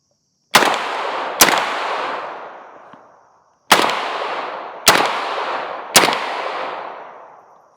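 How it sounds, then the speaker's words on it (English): Five sharp, loud gunshots from an ATI Bulldog shotgun fitted with a V6 muzzle brake ring out outdoors at irregular intervals, each blast followed by a long decaying echo. "That was 5 shots, right?"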